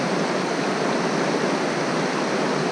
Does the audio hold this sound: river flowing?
yes